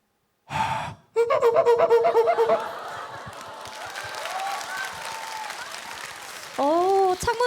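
A voice imitates wiping a window on stage, with a rhythmic series of short squeaky rubbing sounds after a brief burst of audience applause, then a rising squeak near the end.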